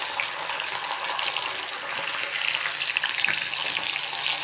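Onion and green chillies sizzle and fry steadily in a hot pan, a continuous close crackling hiss with small pops, no talking.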